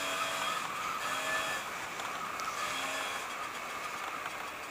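A Daelim Delfino 100cc two-stroke scooter runs while being ridden, giving a steady, buzzing engine drone mixed with wind rush, fairly loud and close and easing slightly toward the end.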